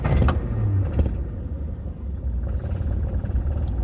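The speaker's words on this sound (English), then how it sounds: "It just starts so easy." An MG Midget roadster's engine fires up with a couple of brief bursts, then settles into a steady, close, low rumbling idle with no talking.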